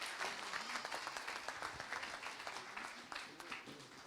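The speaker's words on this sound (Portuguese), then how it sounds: "Vamos dar uma salva de palmas, queridos." A church congregation applauds during a worship celebration, a steady moderate clapping texture with some voices mixed faintly underneath throughout.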